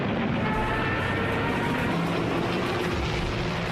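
British fighter aircraft engines drone continuously over Dunkirk in WWII, a loud, steady, unbroken roar with no speech.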